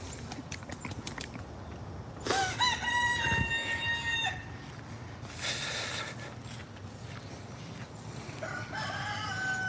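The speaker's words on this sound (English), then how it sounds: "Hey, big rooster, why don't you crow, young guy?" A rooster crows loudly several times in a backyard garden coop, each call a drawn-out harmonic cry, amid ongoing clucking and scratching from other chickens close by.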